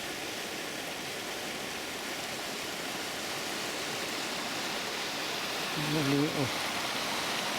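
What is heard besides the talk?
flowing water of Bedale Beck at a river gauge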